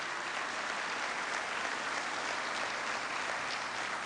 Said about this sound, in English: who deserves a big round of applause